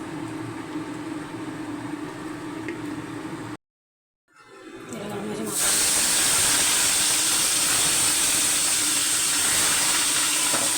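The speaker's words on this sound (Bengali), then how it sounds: "ইলিশ মাছের মাথা ভাজবো কড়াইতে তেল দেবো" Hilsa fish head dropped into hot oil in a wok: a steady hiss, a sudden cut to near silence, then a loud, dense, roaring sizzle that builds and stays strong and close.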